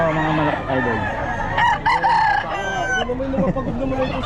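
Chickens and roosters at a roadside poultry seller in Bocaue crow and cluck in a busy, overlapping chorus, several birds calling at once close by, with brief talk mixed in.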